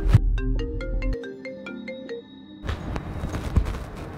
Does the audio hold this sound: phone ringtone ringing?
yes